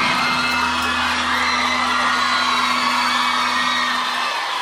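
Dense concert crowd at the Wiltern in 2010 roars, cheers and whoops continuously at a live show, loud and sustained with a steady hum underneath.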